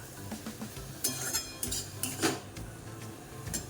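Food being stirred in a pan with a metal spoon: soft, irregular scrapes and occasional light clinks over a faint background sizzle, close but quiet, no voices.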